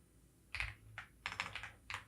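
Keys on a computer keyboard are tapped in a short quick series of about six crisp clicks, close and fairly quiet against a faint background hum.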